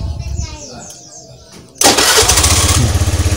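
A 2014 Honda BEAT motorcycle engine cranks and catches at the press of the starter, then settles into a loud, steady, close idle with a fast pulsing beat, after quieter background sounds.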